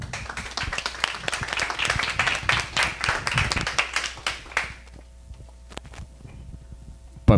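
An audience claps and applauds for a presenter after a startup pitch at a selection event, dense clapping for about five seconds before it thins out to a few scattered claps.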